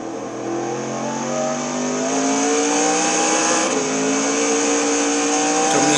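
In-car race car engine at Le Mans in a racing video game, a loud sustained drone whose pitch climbs steadily under acceleration through the whole stretch, with a faint tire squeal near the end.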